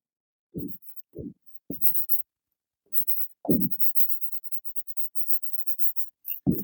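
Writing a balanced chemical equation on a board during a chemistry lesson: a series of short scratchy strokes in bursts with pauses between them, close and clear.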